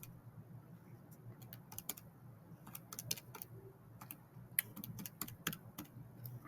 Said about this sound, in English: I'm just going to type this in and get my answer.